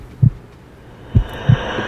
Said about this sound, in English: the heart beating is getting annoying